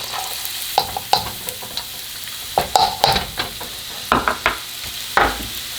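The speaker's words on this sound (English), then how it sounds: "the wok is hot. Now we're going to add in our sesame oil first. To that, we're going to add our chopped red onion." Chopped red onion hitting sesame oil in a hot wok, a steady close sizzle broken by repeated scraping stirs and clattering spatula strokes, with no talk.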